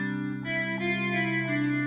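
Guitar sample from the Decent Sampler app on iOS with a chorus effect applied, sustained shimmering chord tones with a slight swirling modulation, fairly quiet, with a couple of note changes and no voices.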